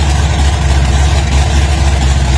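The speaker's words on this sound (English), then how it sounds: "Idling like she's fuel injected." A car engine fitted with a GMC 6-71 supercharger blower idles steadily and loudly up close, with a deep, even rumble that holds throughout and no talking over it.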